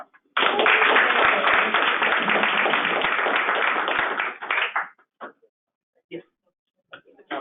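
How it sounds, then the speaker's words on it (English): Meeting attendees at a board of commissioners monthly meeting applaud in a steady burst of clapping that lasts about four and a half seconds, then trails off into a few scattered claps. "So just one last round of applause."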